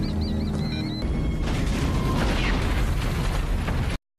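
A film explosion erupts after a brief high whine, a loud, sustained boom and crashing debris rumble that fills several seconds before cutting off abruptly.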